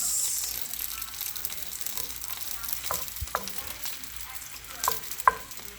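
Rice stirs and fries in a pan with a soft continuous sizzle, broken by a few sharp scrapes and clicks from a utensil against the pan. It sounds close and moderately quiet, with no talking.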